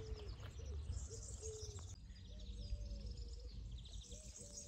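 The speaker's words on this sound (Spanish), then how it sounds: "Se oye los pájaros." Birds sing and coo in the open near Santa Coloma de Queralt, faint repeated calls and short chirps over steady low background noise.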